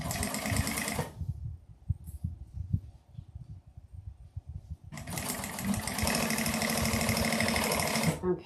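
A sewing machine stitches a 3/8 inch seam with the fabric's right sides together, running in a close, steady, rapid mechanical whir. The whir stops briefly, lower tapping follows, and then the machine starts up again.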